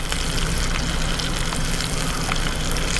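Pompano fillet sizzles in hot oil in a pan: a steady, close, loud frying hiss with crackling pops that runs unbroken through the whole stretch, with no talking.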